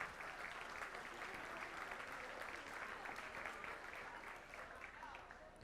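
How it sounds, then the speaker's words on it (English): A round of applause for an honored grandparent at a school district board meeting, steady continuous clapping from the room heard faintly and at a distance throughout, with a murmur of voices mixed in. "Let's give her another round of applause."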